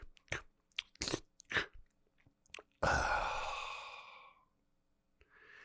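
A voice imitates someone chewing popcorn in a movie theater: a few short crunchy mouth bites, then a long breathy exhale that fades out, with a faint sound at the end.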